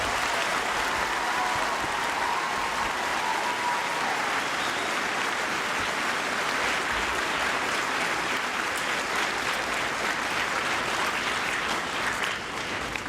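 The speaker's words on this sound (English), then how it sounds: "for all the veterans present here, give them a big round of applause" Audience applause for veterans at a veterans tribute event, a dense, steady roar of many hands clapping, loud and sustained, with no talking over it.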